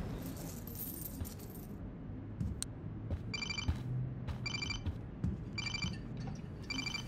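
Keys jangle and clink in repeated short bursts inside the video game Life Is Strange, set over a low, steady game background hum.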